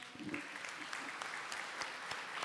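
Audience applause at a national coffee congress after a talk on coffee growing and climate change, a steady patter of clapping throughout with a faint voice underneath.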